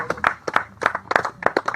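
An audience at a real estate presentation claps briefly in loose, uneven bursts, a small scattered group rather than a big ovation, close and fairly loud.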